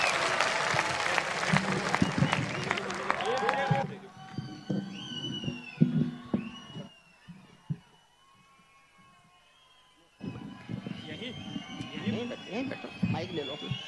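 Audience applause at a Hindi poetry recital, a dense crowd clapping loudly for about four seconds, then scattered claps and room noise, with a second burst of applause near the end.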